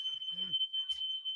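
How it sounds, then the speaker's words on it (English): A smoke alarm emits a steady, piercing high-pitched electronic tone that runs throughout, with people talking briefly underneath it. "Smoke alarm, yeah."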